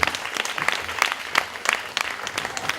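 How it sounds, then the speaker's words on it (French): Audience applause at an evening event at a venue, steady dense clapping from a crowd with some sharper individual claps standing out throughout. "Sous vos applaudissements, merci."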